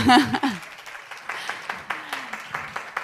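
A conference audience at a women-in-tech event gives a round of applause. It is light and scattered, with a few distinct claps over a quiet room after a brief voice at the start.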